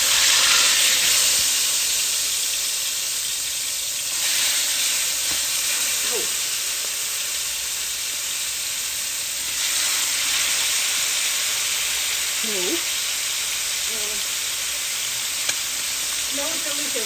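Food fries in avocado oil for a Palestinian makhloobah, a loud, steady sizzle with hissing steam throughout and occasional soft stirring or clinks, close up and with no speech.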